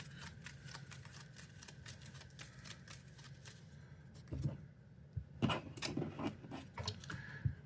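Cards from the Marvel Champions card game are shuffled by hand at close range: a soft, continuous riffling and flicking of the deck that grows brisker and louder toward the end, with no talk over it.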